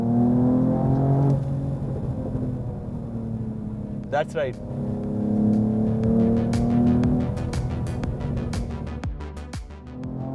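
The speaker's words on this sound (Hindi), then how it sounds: "पॉप्स काफ़ी बढ़िया आ रहे हैं इस गाड़ी में" A Mercedes-AMG E 53 Cabriolet engine drones under talk, then a string of sharp exhaust pops and crackles rattles off near the end.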